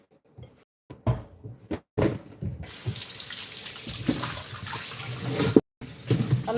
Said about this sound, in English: I'm just going to rinse it directly.